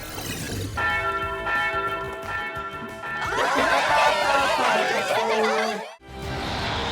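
Bell rung in a Paw Patrol cartoon: a loud, ringing peal with long sustained tones that fades into a lively mix of cartoon chatter and laughter.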